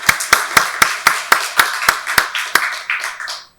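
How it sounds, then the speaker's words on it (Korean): A church congregation at a Sunday worship service claps together in a steady, even rhythm, about a dozen sharp claps in quick succession that fade out at the end. "박수로 하나님께 영광 돌리겠습니다."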